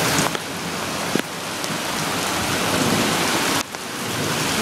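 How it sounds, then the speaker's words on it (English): Heavy rain in Tucson pours in a dense, loud, continuous hiss close by, with a few sharper splashes and brief dips in the downpour. "This rain is salty."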